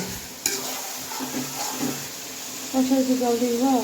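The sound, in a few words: bird meat being sautéed (kosha) in a pot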